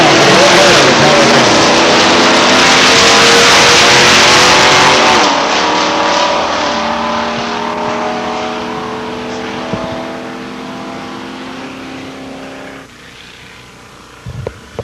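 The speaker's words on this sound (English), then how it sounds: "Steve Pelleggi out of Bolton, Ontario, 1990 Mustang LX. 302 and they're off" Drag race cars, including a 1990 Mustang LX with a 302, launch hard and loud at London Motorsports Park, engines screaming up through the gears before fading away into the distance.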